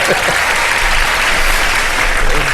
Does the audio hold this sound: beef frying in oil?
no